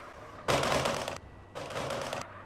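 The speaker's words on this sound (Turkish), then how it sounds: "Egzoz patlatma sesi çok iyi geliyor ya." Rapid bursts of exhaust pops crackle from a car in an MTA roleplay game, two loud rattling volleys of backfire separated by a short pause, with no talking.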